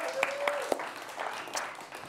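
Studio audience applause at a talk show, a steady, moderately loud wash of clapping lasting a couple of seconds with a few sharper individual claps and a faint voice mixed in.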